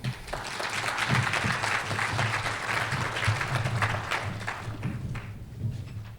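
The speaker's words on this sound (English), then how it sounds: "Please welcome Diane Morgan with a round of applause." An audience applauds to welcome speaker Diane Morgan before her talk on mobile government, with a steady, dense wash of clapping that holds for the full six seconds.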